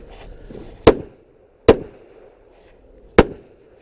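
Three sharp, loud pistol shots ring out at an outdoor IDPA shooting match, spaced unevenly, each with a short echoing tail over faint background noise.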